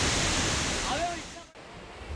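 A waterfall near Mumbai pours with a steady, loud broadband rush that fills the whole clip. The roar dips briefly about halfway through, and a faint voice can be heard under the falling water.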